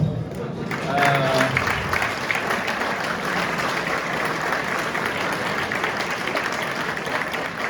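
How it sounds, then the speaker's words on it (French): Full audience applause at a conference, a loud continuous patter of many hands lasting several seconds, with a brief voice near the start before the clapping settles into a steady wash. "Moi, je propose qu'on vous applaudisse."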